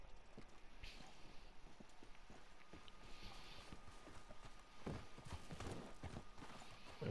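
Horse hooves clip-clopping in the video game Red Dead Redemption 2, a golden horse walking with an irregular series of soft hoof thuds, quiet and close, growing busier toward the end.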